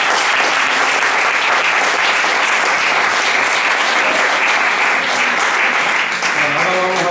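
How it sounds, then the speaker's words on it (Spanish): An audience claps loudly and continuously for Olga at the close of a lecture, a dense unbroken roar of applause lasting several seconds. "Pues un aplauso para Olga."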